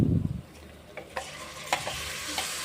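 Raw mango and tomato chutney being stirred into hot oil in a pan, a spoon scraping and clinking in a few soft strokes over a low sizzle, close up with no talking.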